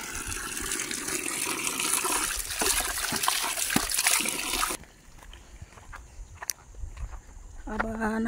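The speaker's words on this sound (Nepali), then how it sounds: "चिसो पानी, मूलको पानी।" Cold spring water pours and splashes loudly near farm fields, then gives way to quieter trickles and drips, with faint voices in the background.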